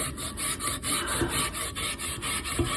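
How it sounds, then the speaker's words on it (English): A rusty cast iron pan is scrubbed with baking soda in a sink, a close, rhythmic rasping rub repeating in quick back-and-forth strokes with no talk. "and start scrubbing"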